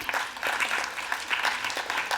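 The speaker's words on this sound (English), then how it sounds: "Can we give that a round of applause?" An audience at an infrastructure conference applauds after a video, many hands clapping in a full, continuous roar that stays fairly loud for a couple of seconds with no speech.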